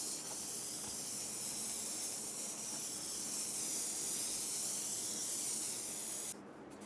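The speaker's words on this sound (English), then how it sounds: "We're going to just spray this stuff up." Contact cement adhesive sprays steadily from an aerosol can, a loud continuous hiss lasting several seconds before cutting off abruptly near the end.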